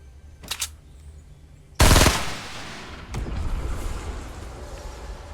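Gunfire in the Fortnite video game played on a Surface Pro 6: a short early shot, then a loud sudden blast followed by a rattling burst of rapid shots that trails into sustained noisy firing.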